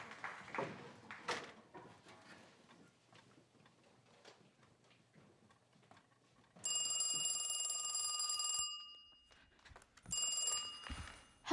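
A telephone bell rings in two bursts at home, a long ring of about two seconds followed by a shorter one after a pause, loud and close over quiet room sounds.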